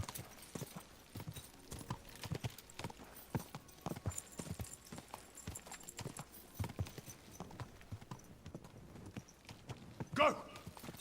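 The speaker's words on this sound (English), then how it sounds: "The magic horse." Rhythmic clip-clop of horse hooves at a quick gait in the video game Kingdom Come: Deliverance II, continuous and fairly close, with a short whinny near the end.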